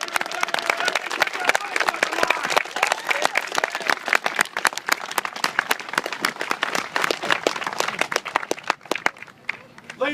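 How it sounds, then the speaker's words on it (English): Applause rolls through an audience at a Second Amendment gathering for military members, a fairly close, uneven clatter of many hands that keeps going for about ten seconds with scattered voices mixed in. "Can we get a big round of applause for this?"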